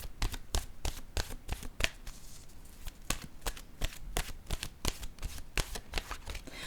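Oracle cards are shuffled by hand in quick, crisp riffling bursts, a steady run of close, sharp papery flicks with a brief pause partway through and no talking.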